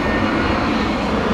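An Airbus A321neo jet at Heathrow Airport in stormy weather gives a loud, steady broadband engine roar with a rushing hiss, close and continuous, with no talking.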